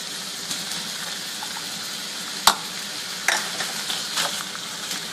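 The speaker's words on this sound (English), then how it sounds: "you're going to brown it with the onion" Ground beef browning with onion in a pan: a moderate, even sizzle with one sharp metallic clink midway and a few scraping stirs later on, with no voices.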